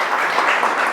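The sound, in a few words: applause for Oki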